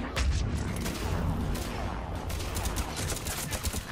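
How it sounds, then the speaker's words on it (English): Salvo of missiles and heavy gunfire in the video game Mass Effect 3, a dense, continuous barrage of booms and rattling shots that stays loud throughout. "Here comes the salvo of missiles."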